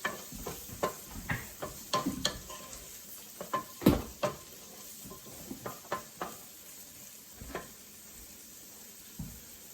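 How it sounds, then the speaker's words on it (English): Cream being whisked and stirred in a pan as it heats during a cooking class, with a soft sizzle under irregular clinks and taps of a whisk against the pan, no talking. "cream gets thick as it cooks. That's why you whisk it."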